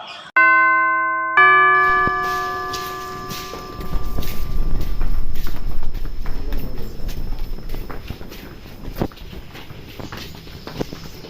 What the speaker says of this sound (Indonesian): bel masuk sekolah telah berbunyi tanda awal pelajaran dimulai